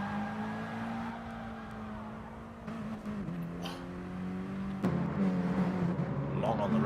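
A Mini Cooper Cup race car engine at Tsukuba Circuit holds a steady high drone, shifting pitch as it revs back onto the power, with a commentator talking over it throughout.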